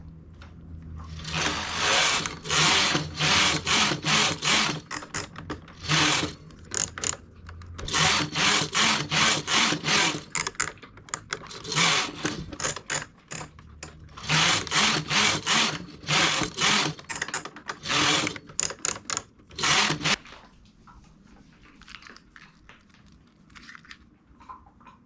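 A knitting machine carriage runs back and forth across rows of a double-faced hat, each pass a loud rasping, clattering sweep in regular bursts with brief pauses between, ending in quieter handling.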